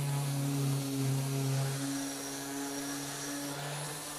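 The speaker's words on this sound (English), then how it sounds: "I'm going to give everything a thorough sanding with some 120 grit paper in the random orbit sander" A random orbit sander working wood with 120 grit paper, a continuous close whirring hum with a steady pitch and a slight drop in loudness partway through, heard alone.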